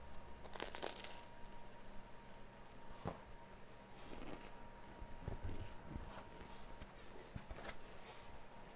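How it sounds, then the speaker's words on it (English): Several crisp crunchy bites of food, close to the mic and spaced irregularly, with faint chewing between them. "Y'all hear that crunch?"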